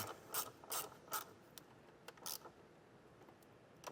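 A ratchet wrench tightening a nut down over a ring terminal on a stud while installing a Curt powered tail light converter on a 2023 Mercedes-Benz, giving several quick rapid clicking bursts, close but fairly quiet.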